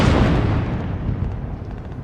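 Army tanks fire during an Indian Army Day military demonstration, a heavy booming blast that rolls and rumbles away over about two seconds, loud and outdoors.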